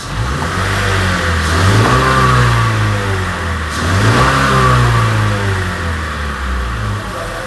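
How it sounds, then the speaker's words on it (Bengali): A 2015 Honda Vezel Hybrid, which has an acceleration fault, revs loudly and close by in a workshop, its engine note rising and falling in two strong surges with no voices. "গাড়িটা ইঞ্জিনে চলে গেল।"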